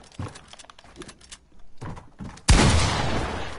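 Pump shotgun blasts in a video game: a few sharp, close shots with clatter between them, ending in one loud, heavy boom that rings out and decays slowly.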